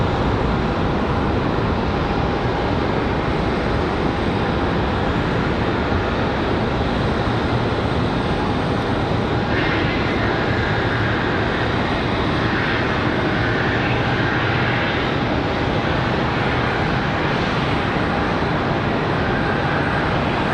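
A jet airliner departing Charlotte Douglas airport, its engines giving a continuous loud roar with a rising whine partway through, sustained and close with no talk.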